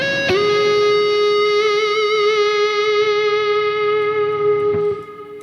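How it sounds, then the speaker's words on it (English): A single sustained chord from an electric guitar through a Neural DSP Soldano SLO-100 amp plugin rings out with heavy, washy reverb and slight wobble, fading into a long reverberant tail. "Let's really push the reverb for a bit. See how that sounds really cranked up."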